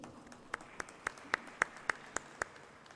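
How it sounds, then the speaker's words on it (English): Sparse, evenly spaced claps sound at a conference on consciousness, about nine sharp hand claps in a slow steady rhythm. They are moderately close over a quiet room, more like one or a few people clapping than full applause. "Please give him a round of big applause."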